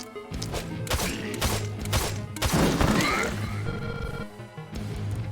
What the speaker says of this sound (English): And we'll do a magic missile.